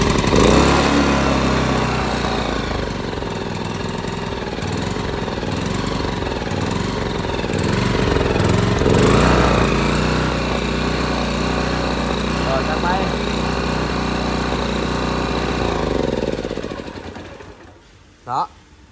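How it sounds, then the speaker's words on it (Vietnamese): A Ferret petrol generator engine runs after a pull start, a loud, steady, buzzy small-engine drone that holds for most of the clip before cutting off near the end, with a voice talking over it. "Rồi bây giờ giật thử nổ máy cho anh em mình nghe luôn ha."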